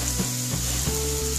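Salted onions fry in a pan until soft for chicken samosa filling, a close, steady sizzle with faint stirring clicks and no talk.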